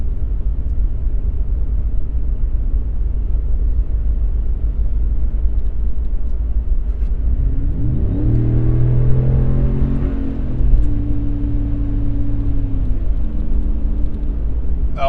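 Ram 1500 pickup fitted with a Borla S-Type exhaust, accelerating in 8th gear from 50 to 65 mph; a low steady cabin drone swells into a rising, layered exhaust note midway, then settles back to a constant road rumble.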